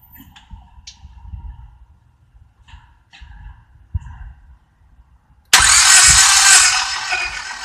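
A 4-cylinder car engine cranks during a compression test. After some quiet, scattered knocks and clicks, a loud, dense mechanical roar starts suddenly and keeps going.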